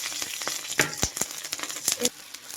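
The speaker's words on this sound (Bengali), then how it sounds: "তেলটা গরম হয়ে গেছে দেখো, আর এখানে লঙ্কা চিড়ে রেখেছিলাম আগে থাকতে, এই লঙ্কাগুলো দিয়ে দেবো" Green chillies slit and dropped into hot oil in a home kitchen pan, giving a close, crackling sizzle broken by several sharp bursts and spatters, with no one talking.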